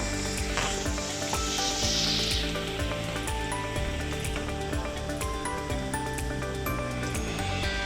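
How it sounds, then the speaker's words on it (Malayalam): Cauliflower frying in hot oil, a loud, continuous close-up sizzle and bubbling hiss that runs steadily throughout with faint clinks over it. "അങ്ങനെ എല്ലാ കോളിഫ്ലവറും നന്നായിട്ട് ഫ്രൈ ചെയ്ത് എടുത്തിട്ടുണ്ട്"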